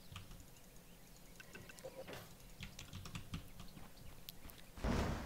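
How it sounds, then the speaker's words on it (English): A computer keyboard clatters in quick, irregular bursts of key presses during a Dota 2 game, close and fairly quiet, with a sharper thump near the end and no speech. "He's busy typing"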